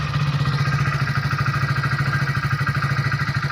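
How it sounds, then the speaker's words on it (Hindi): A Hero Splendor Plus BS6 fuel-injected motorcycle, recently repaired after misfiring when revved, runs close by with a steady, even, throbbing engine pulse and no talk. "जैसे रेस लेता हूँ तो ये गाड़ी अब प्रॉपर रेस लेती है"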